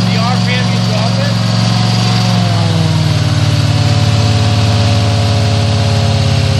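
Steady pressure washer engine drone with a tonal hum that drops to a lower idle pitch partway through as the RPM is lowered, and settles, while a voice talks over it.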